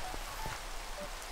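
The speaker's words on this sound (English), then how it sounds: "I can't think with all this rain going on." Steady rain falls in Minecraft, a soft, even patter of drops with a few faint individual taps, quiet and continuous with no voices.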